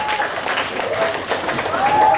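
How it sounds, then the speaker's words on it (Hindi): A school audience at a Hindi recitation competition applauds steadily with dense, continuous clapping that swells slightly toward the end, with a voice briefly audible over it. "जोरदार तालियों से स्वागत"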